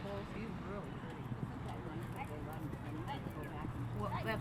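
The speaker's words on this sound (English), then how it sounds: "That's a very strong horse." A strong horse at a summer speed-series event clip-clops through a pole-bending run, hoofbeats steady amid continuous crowd chatter and talk throughout.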